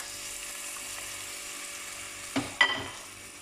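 Onions frying in oil with spices give a soft, continuous sizzle, with two quick clattering stirs near the end.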